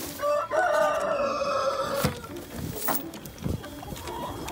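A rooster crows loudly up close, a long drawn-out call, followed by scattered clucks and scuffling from free-range chickens nearby on a farm.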